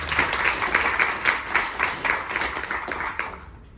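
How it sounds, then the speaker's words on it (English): Audience applause at a panel discussion on bringing Disney Lookout Cay at Lighthouse Point to life, a steady wash of many hands clapping in a room that swells in pulses and then thins out toward the end. "Let's give Kevin a round of applause."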